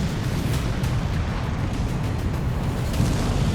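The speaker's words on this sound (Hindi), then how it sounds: "तभी रूसी ड्रोन जो एआई तकनीक से लैस है, वो कैंप में धमाका कर देता है" A dense, continuous rumbling roar fills the clip, heavy and loud throughout, a drone strike explosion on a camp with a sustained booming aftermath.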